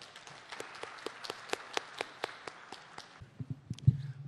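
A hall audience at an environment ministry policy briefing in Korea welcomes a speaker to the podium with fairly sparse, distinct hand claps, steady and close, tapering off into low room noise at the end.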